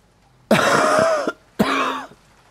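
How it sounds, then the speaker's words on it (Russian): A man in a Siberian taiga survival audiobook breaks into a long, drawn-out coughing fit, two harsh wheezing bursts close to the ear with a short pause between them, and no other speech. "Да вдруг разразился долгим затяжным кашлем"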